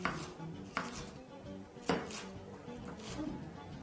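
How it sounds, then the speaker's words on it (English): Lettuce being chopped with a knife on a cutting board in a home kitchen, a few sharp, irregular knocks with soft crunchy cuts in between, close and moderately quiet. "I'll start off by just chopping up that beautiful lettuce"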